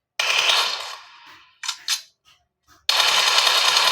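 Sharp bursts of game gunfire in PUBG Mobile, with a long rattling volley and a few short pops before another loud burst of shots starts abruptly. There is no talking.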